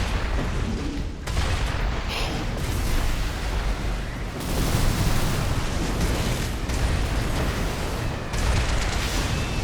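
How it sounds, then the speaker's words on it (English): Enemy missiles detonate repeatedly in the mech game Armored Core 6, a chain of loud booming blasts every couple of seconds over a constant roaring battle din, with no voices. "this guy is shooting missiles every 2 seconds"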